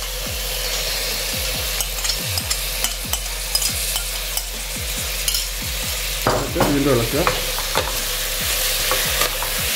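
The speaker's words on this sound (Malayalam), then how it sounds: "ഇങ്ങനെ ഇളക്കുക." Chopped tomatoes are stirred into frying Andhra mutton curry, a spoon scraping the pan in regular repeated strokes over a constant close sizzle. A voice speaks briefly.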